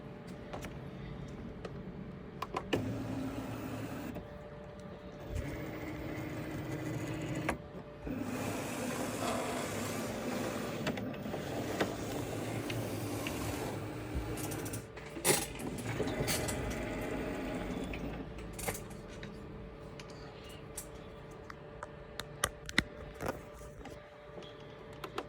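A Cricut cutting machine cuts a printed image, giving a steady motorized whir with shifting carriage movements and small mechanical clicks that run close and continuous with no talking.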